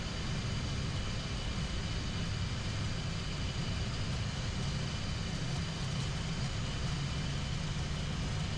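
Airliner jet engines roar at takeoff thrust on a foggy departure, a steady, dense broadband rumble heard from inside the cockpit, unbroken and loud throughout.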